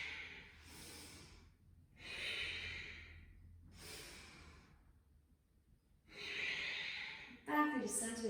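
Steady yoga breathing through seated twists: four slow, audible inhale-exhale breaths with pauses between, close and soft, followed by a brief louder rustle at the end.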